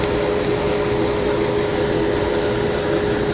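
A coffee roaster runs with its exhaust system drawing off chaff, making a loud, steady whooshing drone with a constant mechanical hum, unbroken from start to finish.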